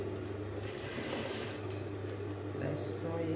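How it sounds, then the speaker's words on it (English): A sewing machine stitches short trousers with a steady mechanical whir and rapid needle chatter, pausing briefly partway through, while a voice talks faintly in the background. "let me sew it and show you"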